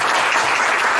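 Sustained, dense applause from an audience at a general meeting of a professional association, steady and loud throughout with no gaps or voices.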